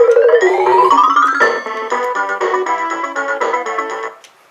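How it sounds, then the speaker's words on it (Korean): An electronic keyboard plays a bright, tinkly demo melody with a rising run, then busy chords and accompaniment, loud and close, ending with a brief fade. "아 이거는 데모곡이네요. 데모 연주."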